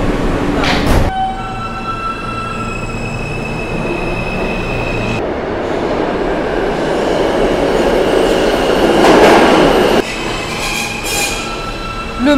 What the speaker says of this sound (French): le métro est tellement bruyant, encore plus que le nôtre